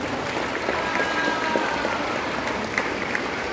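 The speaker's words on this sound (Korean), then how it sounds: "즐거운 박수 부탁드리겠습니다" Steady applause from an audience at a Korean traditional sword performance, dense and even clapping heard at moderate distance for a few seconds with no talking.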